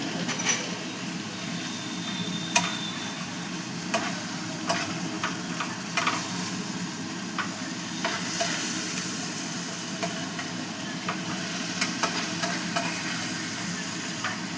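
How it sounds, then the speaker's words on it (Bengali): Ginger, garlic and green chili paste fries in hot oil for a katla fish rezala, giving a steady crackling sizzle throughout, with occasional sharp scrapes and taps of a spoon stirring against the pan. "এবার এতে আমি এই যে আদা রসুন আর কাঁচা লঙ্কা বাটাটা দিয়ে দিচ্ছি"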